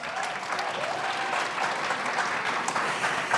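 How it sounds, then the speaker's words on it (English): Steady applause from a conference audience at a blogging business event, dense continuous clapping filling the room throughout without a break. "Hand clap for them."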